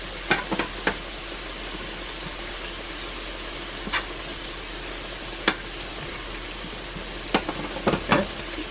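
Butter and flour sizzling in a cast iron pan, a soft continuous fry with a few sharp scrapes and clicks of a stirring utensil scattered through it.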